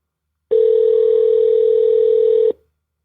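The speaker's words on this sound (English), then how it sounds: "Brooke can answer the phone." Telephone line tone on a call to a car dealership service department, a single loud steady tone lasting about two seconds that starts and stops abruptly, with silence around it.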